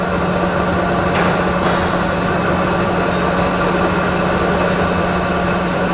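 An O.D. grinder plunge-grinding a metal part under flowing coolant gives a steady, loud broadband whir with a constant hum, unbroken for the whole stretch and with no voices.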